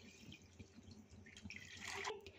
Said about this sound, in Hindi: सो इसमें मैं 2 लीटर पानी शामिल कर